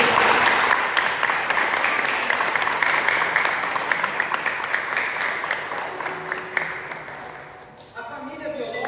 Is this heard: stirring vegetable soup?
no